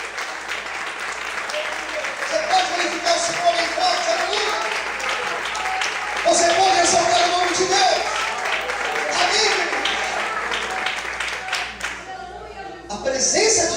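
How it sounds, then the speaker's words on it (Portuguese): A church congregation applauds during a Sunday morning service, dense sustained clapping filling the hall with a murmur of voices underneath, easing off briefly before swelling again at the end. "levanta a mão para o céu, glorifica o Senhor e aplauda o nome de Deus nessa manhã"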